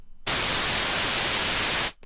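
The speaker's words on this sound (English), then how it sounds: "is just basic white noise" Basic white noise from the noise oscillator of a free synthesizer plugin, a loud, flat, full-band hiss that starts abruptly after a short quiet moment, holds steady, then fades out quickly.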